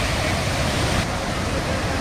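Athirappilly waterfall in Kerala running high with floodwater, a dense unbroken roar of crashing water, loud and near throughout with a slight dip midway.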